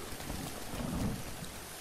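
Steady rain from the Zelda video game, a dense even hiss with a low rumbling swell in the middle, like distant thunder, and no talking.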